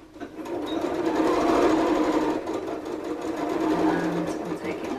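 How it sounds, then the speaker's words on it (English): A domestic sewing machine stitches a jacket collar, its motor whirring steadily and fairly loud at close range, easing slightly near the middle before continuing. "So the collar is in position on the machine. I'm just going to follow my stitch line now."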